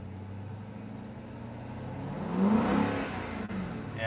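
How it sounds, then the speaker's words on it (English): A supercharged V8 in a 2020 Jeep Grand Cherokee Trackhawk idles at a low rumble, then revs up in a single swelling burst around the middle before settling back, heard from inside or near the parked vehicle. "it's hard to piece out the supercharger whine just sitting here and revving it"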